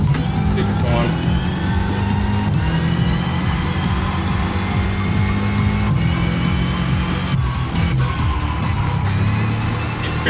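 In Test Drive Unlimited Solar Crown, a car engine drones steadily with loud, continuous revving while the tires work through a corner, and a person talks over the driving throughout.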